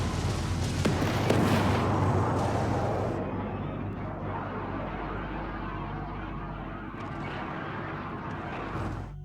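Incoming rounds and explosions rumble through a Homeworld 3 space battle, a dense, continuous roar of booms and blasts that stays loud and steady, with faint bursts layered on top and no clear talk.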